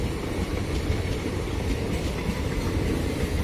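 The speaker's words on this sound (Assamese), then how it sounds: "শেষ নহয় ইমান ট্ৰেইন, ইমান দীঘল ট্ৰেইন" A long train rumbles steadily past nearby, deep continuous roar with rhythmic wheel clatter and no break.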